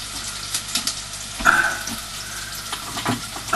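Chopped onions frying in a pan for a chicken curry, a steady hiss with scattered crackles and soft stirring scrapes, close and fairly loud.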